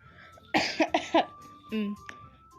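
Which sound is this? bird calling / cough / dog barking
cough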